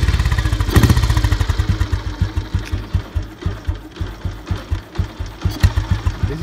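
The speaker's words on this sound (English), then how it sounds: "This is how you slow your bike's idling to get the proper grip what you require." A 1968 Royal Enfield Bullet single-cylinder motorcycle engine idles nearby with a loud, steady, slightly uneven thumping beat, heard alone without talk.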